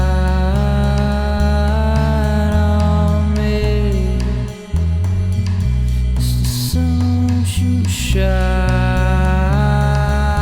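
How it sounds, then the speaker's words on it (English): A voice sings a gentle melody over steady instrumental accompaniment, like a home demo recording of a song. "I made this little demo recording just to get an idea of what my voice would sound like"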